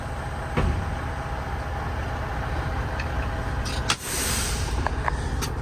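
A semi-truck tractor hitched to its trailer pulls away slowly in first low gear, with a steady low diesel engine rumble, a sharp air brake hiss midway, and a few clanks near the microphone.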